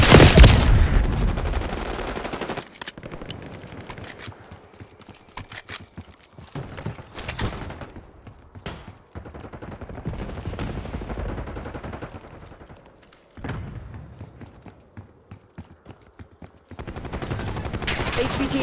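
Sustained gunfire in Call of Duty Black Ops 6, with long stretches of rapid automatic bursts and single shots broken by short lulls, loud and close, with voices calling out over the shooting.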